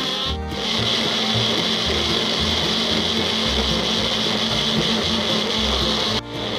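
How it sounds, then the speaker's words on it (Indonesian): An electric blender or grinder purees shallots, garlic, candlenuts and chili into spice paste, a steady loud whirring drone with a brief pause near the start and a short dip near the end. "Lalu kita haluskan sampai semuanya halus."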